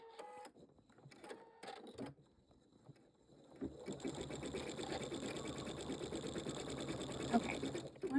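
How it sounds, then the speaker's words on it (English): A Pfaff Creative 3.0 embroidery machine stitching a Halloween quilt design starts up after a few soft clicks and button beeps. It then runs with a steady, fast mechanical whirring and rhythmic needle chatter, close and continuous. "we're going to go ahead and start stitching"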